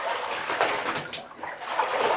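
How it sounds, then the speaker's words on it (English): Clothes being thrown and worked in water by hand while washing give a close, continuous splashing and sloshing with no talk. "We'll throw it in the water again."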